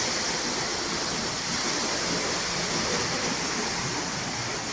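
Water gushes steadily from a motor-pumped well, a loud, continuous roar that fills the whole stretch with no talking.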